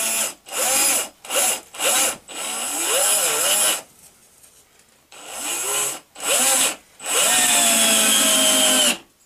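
A power drill drives a screw in repeated bursts, the motor whining up and winding down with short pauses between, then a longer sustained run near the end, loud and close.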